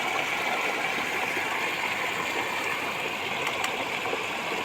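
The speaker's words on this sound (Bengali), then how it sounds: "দেখো পাট ক্ষেত থেকে কিভাবে জল আসতেছে দেখো" Rainwater runs off a jute field in a steady, continuous stream, a broad close rush and gurgle holding an even level throughout with no voices.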